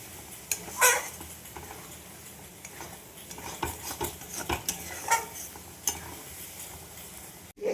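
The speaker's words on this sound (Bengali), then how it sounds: "এইভাবে একটু নাড়িয়ে নিতে হবে।" Bombay duck fish curry stirred in a pan, with a spoon scraping and clinking against the metal in uneven bursts over a faint sizzle, close by and without talk.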